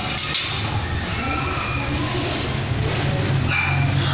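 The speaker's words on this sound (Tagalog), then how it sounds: "Look at this puppy, so cute!" A newborn puppy yips and whimpers close up indoors, a steady run of small high cries and barks with soft thumps of movement underneath.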